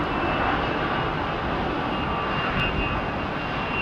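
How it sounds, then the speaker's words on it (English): Airliner with Pratt & Whitney jet engines spooling up at London Heathrow, a steady loud broadband roar with a faint high whine, close and continuous without talk. "sound of the spool up on those Pratts, man"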